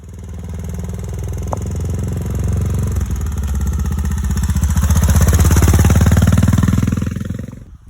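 A motorcycle engine revs up, drops briefly as the gear changes, then climbs again to a loud, steady drone before cutting off, heard close with no talking.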